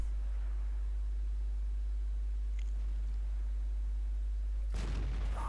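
Tank cannon shot in World of Tanks, a sudden loud broadband blast near the end of a quiet stretch with steady low hum beneath.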